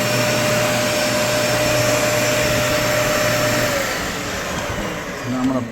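A Dyson vacuum cleaner whose brushes don't spin runs continuously with a loud, steady motor whine and airflow roar, close by, dipping slightly near the end.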